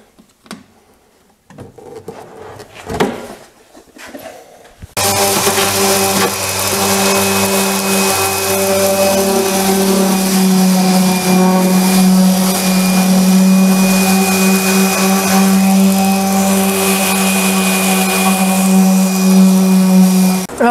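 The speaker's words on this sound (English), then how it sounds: "take the drawers out and do a little sanding" A few seconds of clattering handling noise, then a power sander starts on wooden cabinet drawers and runs with a loud, steady electric whir and grinding buzz.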